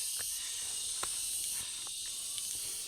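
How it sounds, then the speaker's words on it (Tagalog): Crickets chirp steadily on an outdoor tour in Albay, a constant high, shrill drone from many insects at once, with faint scattered taps and footsteps underneath. "Narinig niyo po yan, kuliglig."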